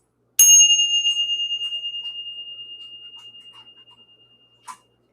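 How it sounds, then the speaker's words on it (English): A single bell is struck once and rings out with a clear, sustained tone that slowly fades; a brief second tap comes near the end. "Let's ring the bell."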